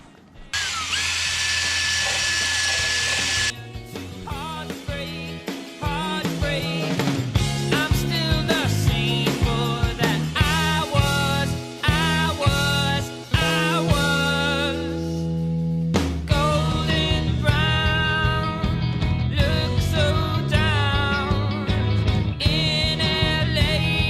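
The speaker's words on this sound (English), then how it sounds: "We're just gonna try out the wire wheel." Wire wheel on a power tool grinding metal in a Mazda Miata engine bay being prepped for an LS swap, a high whine spinning up then biting in repeated bursts of rasping scrubbing, loud and close.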